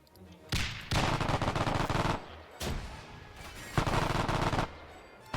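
Machine gun fire from a half-track in Arma 3 with Iron Front WWII content, heard as long, loud automatic bursts broken by short pauses, three or four sustained volleys in all.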